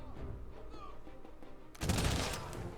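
Units firing in the strategy game Humankind, a sudden dense volley of gunfire that bursts out loudly after quieter game ambience.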